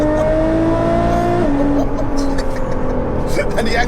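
An 820bhp hybrid turbo Nissan GT-R accelerates with a loud, deep, sustained engine drone that rises in pitch through the gears, heard close from inside the car while people talk over it.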